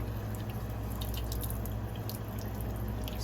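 Running water rinses a part of an acoustic dispenser clean of soap, giving a steady, continuous splashing with faint dripping accents throughout.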